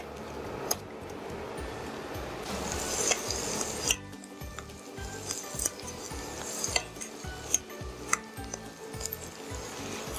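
Onions frying in a pan, with steady sizzling under frequent stirring scrapes and clinks of a utensil against the pan, close and moderately loud throughout.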